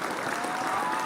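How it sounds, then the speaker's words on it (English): Applause from a crowd, a dense steady wash of clapping that fills the whole short stretch at even loudness with no voices on top. "let's get the better claps"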